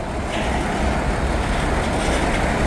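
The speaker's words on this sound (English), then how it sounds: "This is a big old heavy grain train." A heavy freight grain train rolls past in sunshine and snow, making a loud, continuous low rumble with dense mechanical clatter throughout. No voices are heard.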